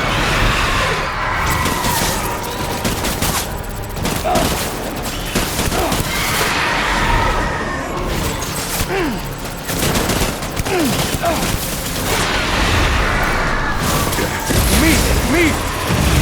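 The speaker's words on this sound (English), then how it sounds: "Open fire." Gunfire in a battle in Death Stranding, dense and continuous volleys of loud shots with crashes and rumble, voices calling out beneath the din throughout.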